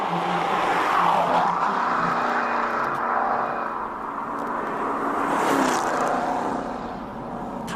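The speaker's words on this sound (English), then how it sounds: "Brutal car, brute power, brutal noise as well." A race car engine roars and revs at high pitch as it speeds past at the Simola Hillclimb, the sound swelling and fading with a brief tire squeal.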